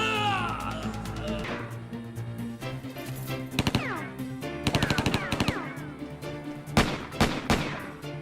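A video game firefight during a ninja fight, with repeated bursts of rapid machine-gun fire and single loud shots in uneven clusters. Musical and effect tones sit underneath, and there is no clear talk.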